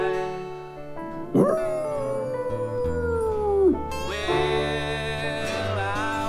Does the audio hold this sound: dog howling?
yes